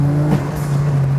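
A turbocharged 9th-generation Toyota Corolla Altis runs with a steady, loud droning engine tone and a short rising burst midway, like a blow-off valve venting, close to the microphone.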